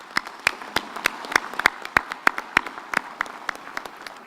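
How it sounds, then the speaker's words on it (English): Audience at a university summer graduation ceremony giving a round of applause, heard as sparse, individually distinct claps with a loose uneven rhythm, fairly close. "another round of applause"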